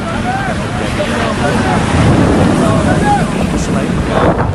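Strong thunderstorm winds sweep through Mecca, Saudi Arabia: a steady, loud roar of gusting wind buffets the microphone without pause, with no clear voices above the din.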